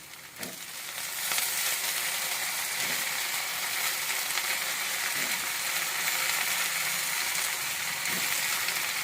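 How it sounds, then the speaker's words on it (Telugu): Chopped brinjal tipped into a pan of frying curry with potato, tomato and peas, a sharp burst of sizzling swelling into a steady, loud crackling hiss that runs on without talk. "ఇప్పుడు మనము వంకాయలు వేస్తాము ఇవి కట్ చేసి పెట్టుకున్నాం కదా మంచిగా ఈ వంకాయలు వేస్తాము"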